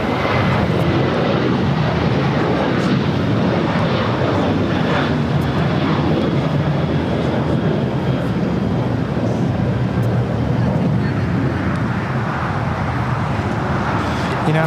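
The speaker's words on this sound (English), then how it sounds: "That was Alaska 1420 taking off to Loretto on a 737-800." An Alaska Boeing 737-800 jet taking off from LAX runway 25 right: a loud, steady broadband engine roar that holds for the whole stretch, with no clear peak.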